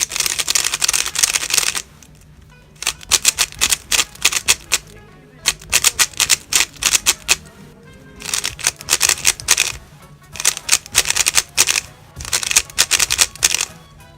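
Rapid clicky turning of a QiYi WuQue corner-twist puzzle cube, bursts of dense plastic clacks close up with brief pauses between sequences, loud and dry.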